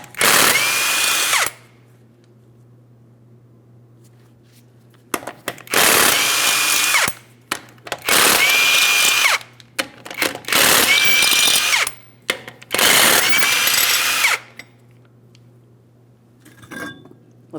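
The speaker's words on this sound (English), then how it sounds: "we're going to be using a 21mm to remove all 5 of our lug nuts" Bursts from a power tool removing the five 21mm lug nuts from the front wheel of a Ford Transit 250, five loud whirring runs of about a second or two each with quiet gaps between, no talking.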